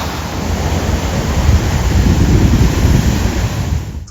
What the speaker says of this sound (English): This waterfall is called El Salto.